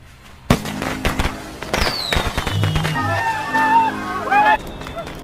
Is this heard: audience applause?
no